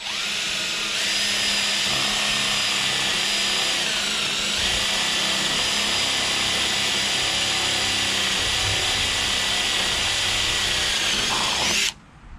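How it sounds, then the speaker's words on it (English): A power drill with a 5/32 drill bit bores through ten stacked layers of tin roofing on a post-and-beam barn kit. It gives a loud, continuous grinding whine with a slight rise in pitch partway through, then cuts off abruptly at the end. "Let's see how drilling through 10 layers of tin goes."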